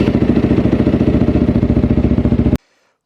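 A Megelli 250R motorcycle engine fitted with a cone filter runs at a steady, throbbing idle, close and loud, with rapid even pulses that stop abruptly near the end.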